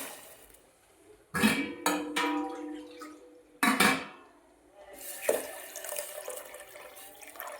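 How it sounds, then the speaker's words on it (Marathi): Water splashing into a metal cooking pot holding moong dal in several separate pours, close by, with light clinks of cookware between the bursts. "त्याच्यामध्ये मी पाणी टाकणार आहे शिजायला"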